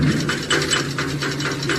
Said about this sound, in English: Sounds like the big end's gone.